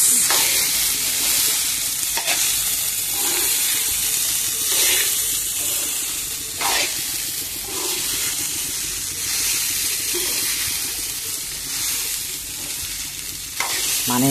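Homemade fried rice sizzles steadily in a hot pan while it is stirred and tossed, with a continuous hiss of frying and repeated scraping strokes of the spoon close by, loud and unbroken with no talking.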